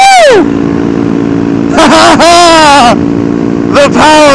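A Honda Grom motorcycle engine at a supermoto meetup revs loudly and close, with several sharp throttle blips that rise and fall over a steady idle, one near the start, a longer run in the middle and a short burst near the end.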